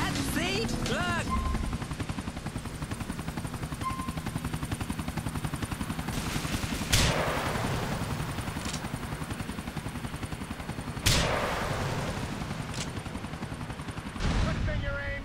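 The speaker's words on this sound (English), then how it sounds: "Get rid of this chopper with it." Video game helicopter with gunfire during a boat chase: a continuous rotor drone throughout, broken by several sharp, loud gunshot bursts, with voices speaking over the noise.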